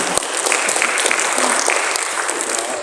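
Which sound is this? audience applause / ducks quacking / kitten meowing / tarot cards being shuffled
audience applause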